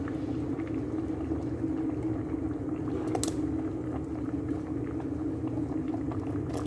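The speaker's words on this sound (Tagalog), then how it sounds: "Ngayon guys, pwede na natin ihulog yung ating carrots" A pot of Filipino pineapple chicken with evaporated milk bubbles steadily as carrots are dropped in, giving a constant close boiling burble with a few small splashes and clinks.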